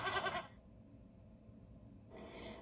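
Goats bleat in a TV advert: a loud bleat at the start, then a quieter gap over a low background bed, and another bleating burst at the end.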